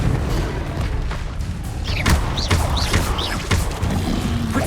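Confringo fire spell blasting in Hogwarts Legacy amid a busy magical duel, with loud booming impacts and repeated crashing hits over a continuous rumbling battle din.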